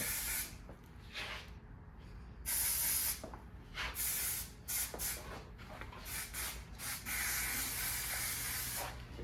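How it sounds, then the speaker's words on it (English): Repeated bursts of hair spray hiss up close as it is sprayed into hair roots, several short and a few longer sprays separated by brief pauses. "just spray it in the roots"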